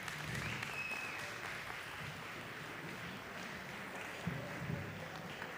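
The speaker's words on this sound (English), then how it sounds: "Let's give them a round of applause." Audience applause at a South African business conference closing session, a steady wash of clapping from a crowd that holds at an even level for several seconds, with faint murmuring underneath.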